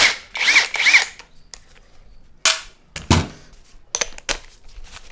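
An impact tool rattles in short, loud bursts on the cylinder head bolts of a Yamaha Nmax 200 cc scooter, two long buzzing runs followed by several sharp, brief hits and clanks with gaps between them.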